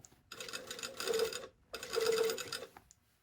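A home sewing machine stitches a continuous lap placket on a shirtdress sleeve in two close bursts of fast, whirring stitching separated by a short pause.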